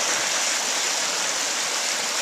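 A river running high beside a lot for sale, heard as a steady, loud broadband rush of flowing water with no break and no voices.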